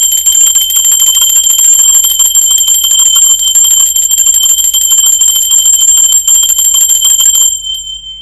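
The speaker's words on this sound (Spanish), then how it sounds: "Ahora sí, va campana." A bell rings with a sustained, bright metallic tone and a steady shimmer at the start of a tarot reading. It stays loud and continuous throughout, then fades off abruptly near the end.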